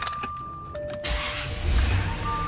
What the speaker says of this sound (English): you want to run the car for 10 minutes